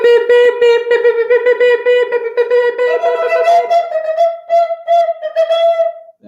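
A voice imitates Morse code with a rapid string of short and long tonal beeps, humming-like and close, running steadily with no other sound.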